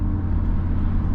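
A loud Audi RS3 drives along with a deep, steady engine drone and low road rumble heard from inside the car, with no voices.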